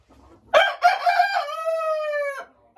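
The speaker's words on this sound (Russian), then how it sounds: "Этого петушка пока убирать не будем." A rooster on a farm gives one loud, close crow, opening with a couple of short clucking notes before a long sustained call that cuts off cleanly, with quiet background before and after.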